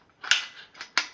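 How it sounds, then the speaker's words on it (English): An AR-15 bolt being fitted into a Radical Firearms 7.5-inch AR-15 pistol, a quick sequence of three sharp close metallic clicks and slides, loud and dry with nothing else around. "I'm going to put this bolt into here"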